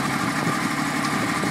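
A 2012 Yamaha R1 motorcycle engine runs at a steady, close idle, a constant buzzing rumble throughout with no talking.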